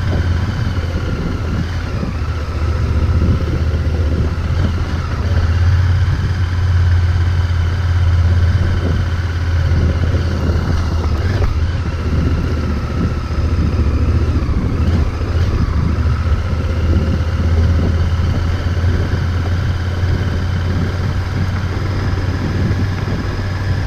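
A Honda Varadero XL1000V motorcycle rides a rough green lane at Mere Down, Wiltshire, its V-twin engine a continuous loud, close rumble with wind buffeting and no talking.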